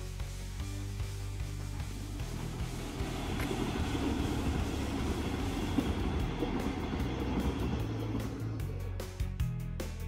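A Berlin S-Bahn commuter train rumbles past at a distance, its low roar swelling and lingering with rhythmic rail clatter over wind noise, heard from the Arkenberge hill in Pankow.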